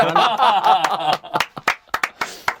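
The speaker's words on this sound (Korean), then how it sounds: "박수 한번 치죠" A few people clap briefly in a studio during a K League football talk show, sharp separate claps following a burst of laughter and chatter.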